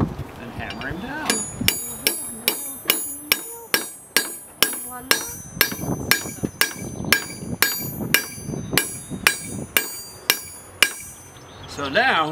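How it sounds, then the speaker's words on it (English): A blacksmith hammers hot iron into a nail, about twenty steady, ringing metallic blows in an even rhythm, close and loud, with bright clinking overtones and a brief scrape at the end. "Put him in there and hammer him down."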